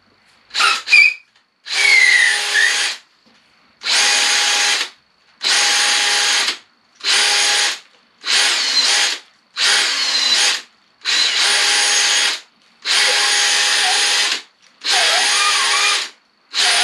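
A power drill reams out a fishing rod handle in about a dozen loud, evenly spaced bursts of whirring, each a second or so long with short silent gaps between, no talking.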